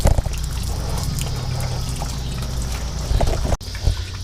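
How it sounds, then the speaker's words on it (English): Water drains steadily from a 1968 Chevrolet Impala and splashes onto a garage floor, a continuous close trickling pour with a brief interruption near the end. "Put your drain pan here and let the water go on the floor over there."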